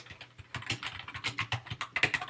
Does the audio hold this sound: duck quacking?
no